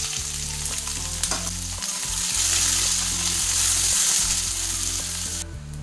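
Two large onions sizzling in hot spiced oil for a spicy chicken masala, a steady loud frying hiss with occasional stirring clatter, continuous throughout with no talk.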